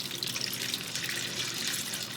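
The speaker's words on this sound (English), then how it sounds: "So I'm going to pour some into the mixing bowl here." Rendered beef fat, for homemade suet birdfood, pours in a steady liquid stream into a mixing bowl, a continuous close, trickling splash with no talk.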